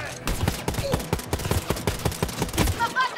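Rapid bursts of automatic gunfire in the co-op shooter Wolfenstein: Youngblood, dense repeated shots with scattered in-game sounds and a voice talking over the firing.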